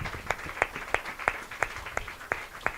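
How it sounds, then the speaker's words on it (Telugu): A church congregation claps in unison, a steady beat of about three sharp claps per second, close and moderately loud, with no talking over it. "చప్పట్లు కొట్టండి."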